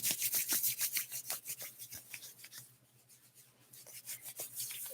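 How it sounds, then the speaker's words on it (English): Rapid, rhythmic rubbing of feet soles and hand palms together during a Kundalini yoga practice, close and brisk, fading to a quieter pause midway before the strokes resume. "rubbing the soles of your feet together, rubbing the palms of your hands together"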